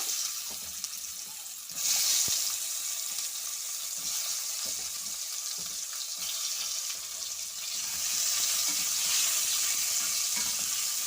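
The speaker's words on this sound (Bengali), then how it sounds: "মাছগুলো ভাজা হয়ে গেছে, এবার আমি পটলগুলো ভেজে নেব।" Pointed gourd (potol) pieces fry in hot oil in a pan, giving a steady close sizzle that swells louder twice as they are stirred, with occasional soft clinks and no voices.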